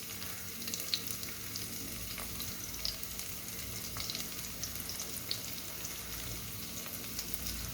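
Garlic and cumin seeds crackle faintly in heated oil for a spring onion greens dish, a soft, even frying hiss with a few light pops and clicks and no talking.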